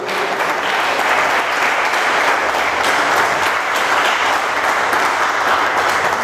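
A church congregation applauds the Lord during a Sunday service, a loud, thick wash of clapping that holds steady without pause and carries no talk over it.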